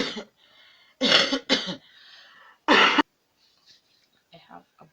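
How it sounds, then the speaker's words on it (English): Three hard coughs burst out close to the mic from someone with a bad cough during a lazy morning at home, with a faint low voice murmuring between them. "I have a bad cough."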